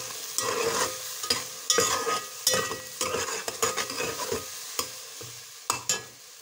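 Ginger garlic paste frying with onions in a pan, a soft steady sizzle under repeated scraping strokes of a spoon stirring, close by and moderately loud, no talking.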